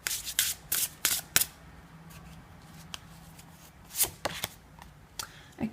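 Tarot cards riffle and slap in quick bursts of shuffling near the listener, a tight cluster at the start and another near the end, with quiet handling between.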